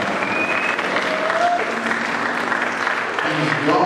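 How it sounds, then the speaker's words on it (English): A church congregation claps for a young gospel singer and rapper, a dense steady burst of applause with a voice speaking faintly underneath throughout. "somebody clap for him"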